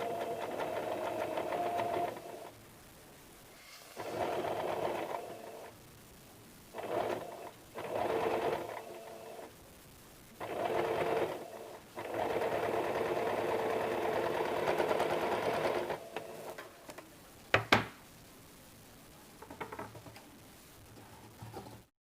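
A sewing machine stitching a blouse runs in several bursts of steady, rapid whirring, starting and stopping with short pauses, near and alone, with a brief sharp click toward the end.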